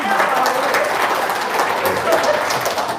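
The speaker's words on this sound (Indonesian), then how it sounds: "Tepuk tangan dong." Applause from a small group of people, a steady dense patter of clapping sustained throughout without a break, with no clear talk over it.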